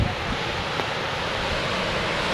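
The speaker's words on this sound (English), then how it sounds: "We've got a nice little creek down here." A small mountain creek near a reservoir campsite flows steadily, a continuous broadband rush of running water, close and fairly loud, with no voices.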